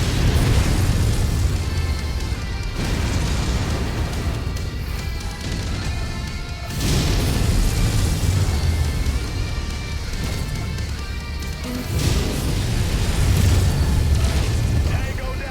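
Missiles explode in the mech combat game MechWarrior 5 Mercenaries, a series of loud, heavy booms with rumbling crashes that recur every few seconds amid constant battle noise.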